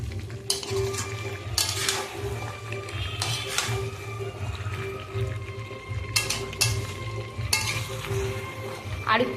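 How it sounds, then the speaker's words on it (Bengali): Meat, including trotters, being braised in oil in a pot, with a steady close sizzle under repeated scraping and clanking strokes of a spoon stirring against the metal. "এই যে কষানো চলছে।"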